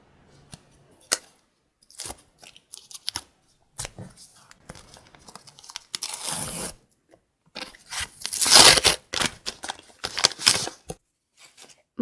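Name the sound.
tearing open a paper surprise packet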